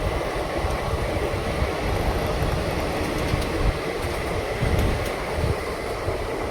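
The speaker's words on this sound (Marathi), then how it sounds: "ते बघा ट्रेन गेली." A passenger train rumbles past on the line near a busy junction, a loud, continuous roar and rattle of wagons holding steady throughout, with no talk.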